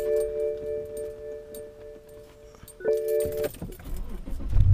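A BMW E60 5 Series being switched off from inside the cabin: steady chime tones and electronic hum cut out, followed by a clunk and key jangling close by, then rustling movement.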